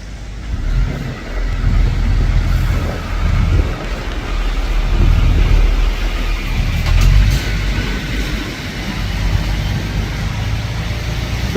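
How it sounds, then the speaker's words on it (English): A lorry pulling into a depot on a rainy day: a steady low engine rumble rises slightly under a constant wash of rain and road hiss, heard from a moderate distance. "We've got another lorry coming in as well"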